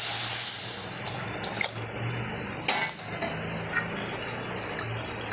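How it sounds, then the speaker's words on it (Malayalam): Squeezed tamarind water pours into a pan for Kerala rasam, a steady watery splash and gurgle with a few light clinks of utensils against metal, close and alone. "ഇതിലേക്ക് നമുക്ക് ഈ പുളി പിഴിഞ്ഞത് ഒഴിച്ചു."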